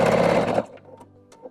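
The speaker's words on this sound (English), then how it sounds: "I'm gonna just take a couple of stitches right here" A sewing machine runs a quick burst of stitches across a quilt seam, loud and close for about half a second before stopping into quiet handling noises.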